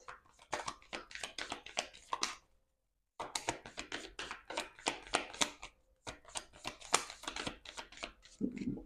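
Tarot cards are shuffled and drawn close up, producing quick crisp riffling and flicking bursts in rapid runs separated by brief pauses.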